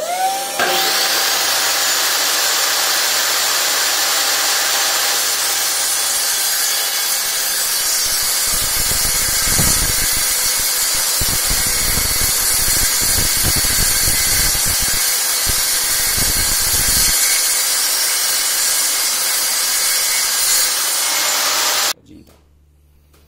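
A benchtop circular table saw cuts a wooden board, a loud continuous whine running for about twenty seconds with rougher grinding bursts as the blade bites, then stopping abruptly at the end.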